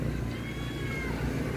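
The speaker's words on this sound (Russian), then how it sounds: "кормлю кота" A cat meows while being fed, a drawn-out vocal cry over a constant low rumble of background noise, close by, with no talk.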